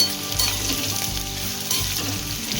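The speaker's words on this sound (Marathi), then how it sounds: "आता आपण चांगला कांदा भाजून घेऊया." Chopped onion fries in a generous pour of hot oil for a mutton curry, giving a dense, even, close-up sizzle with a faint low hum underneath and no voices.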